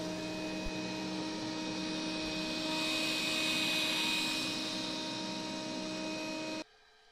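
A robot vacuum cleaner runs at maximum suction on carpet, a steady loud whirring drone with a tonal hum that holds for several seconds, then drops sharply to a quieter running level.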